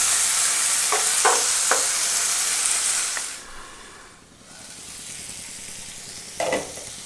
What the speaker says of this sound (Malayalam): ഇനി നമുക്കത് തക്കാളി ഒന്ന് വെന്ത് വരാൻ വേണ്ടി ഒന്ന് ഇളക്കിയിട്ട് അല്പം ഒന്ന് അടച്ചു വെക്കാം